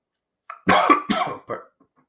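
A person on a live sports talk show coughs: two or three harsh, throaty bursts in quick succession, fairly close and loud, then a faint trailing sound and silence.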